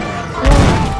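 Explosion striking a tank in the game Battlefield V, a single heavy thudding boom with a low rumbling tail, loud and close.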